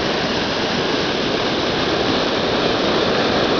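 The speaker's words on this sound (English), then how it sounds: "Y'all see that right there? The waterfalls. I know it's kind of loud" Loud, steady roar of a nearby waterfall, a dense broadband rush of falling water with no breaks or other sounds.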